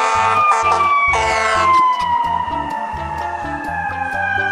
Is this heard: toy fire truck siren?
yes